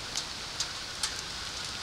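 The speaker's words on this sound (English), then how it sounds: "just getting ready to go for a hike in the pouring rain" Pouring rain on a grassy hiking area, a steady close hiss with a few faint, sharp drip ticks scattered through it and no voices.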